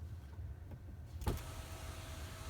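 A Jeep Compass panoramic sunroof motor whirs as the roof opens, a brief mechanical burst partway through, faint and close over a quiet cabin hum.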